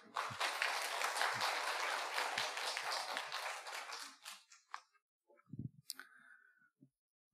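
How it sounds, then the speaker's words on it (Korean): A room full of people at a church worship service claps steadily for about four seconds, then the applause fades out into a few scattered claps and quiet clicks. "감사와 환영의 마음을 담아서 박수 한번 부탁드립니다"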